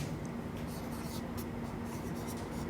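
An example English sentence is written by hand close up, with continuous light scratching strokes over a steady low background hum.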